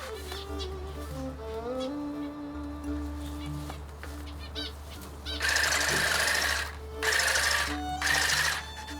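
A grass cutting machine starts up partway through and runs loud and close in several bursts with short gaps between them. Faint bird chirps and a low steady hum come before it.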